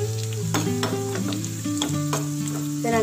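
Raisins and cashews for a carrot payasam fry in hot fat, crackling and sizzling close up with sharp stirring clicks throughout, with no speech.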